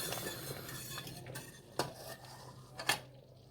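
Quiet kitchen clatter: spoons scraping and clinking against glass jars and a pot while filling jars with homemade ketchup, with a few sharper knocks over a low background hum.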